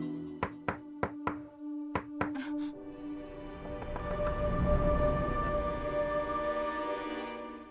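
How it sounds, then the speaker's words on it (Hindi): Sharp knocks on a door in a household drama scene, a quick run of loud raps followed by two more, then a swelling dramatic music bed with no voices. "लगता है दरवाजे पर किसी ने दस्तक दी है।"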